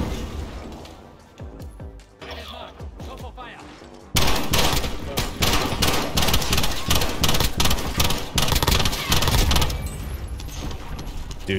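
Dense, rapid AUG rifle fire in a video game, starting sparse and quieter, then jumping at about four seconds into loud, sustained bursts that run to the end, with a voice occasionally underneath.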